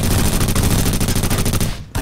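Video game gunfire in rapid automatic bursts, dense and loud, continuous for most of the clip before cutting off briefly near the end.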